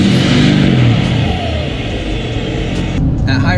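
A loud, deep straight-piped truck exhaust rumbles and revs close by, droning steadily with a harsh roar, and a voice is briefly audible near the end.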